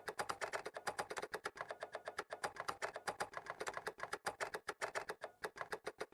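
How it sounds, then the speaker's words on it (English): Rapid, steady typing on a keyboard, each keystroke crisp and close, with short pauses breaking the clattering rhythm. "I can make typing sounds too if that's what you like"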